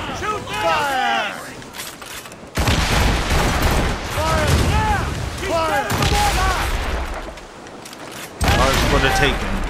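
Ship cannons in Assassin's Creed Rogue fire in repeated heavy volleys during a naval battle, booms rolling over crackling debris and chaotic shouting voices, loud and dense throughout.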